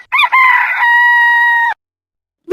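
A rooster crows once, a loud, close cock-a-doodle-doo with a rising opening and a long held note that cuts off abruptly, then silence.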